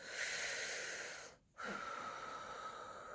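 Heavy, panicked breathing up close, a long rasping wheezy exhale, a short pause, then another strained, snorting breath that trails on.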